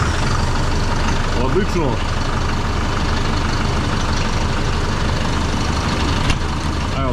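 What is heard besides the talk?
Changfa 1204-B tractor engine started and idling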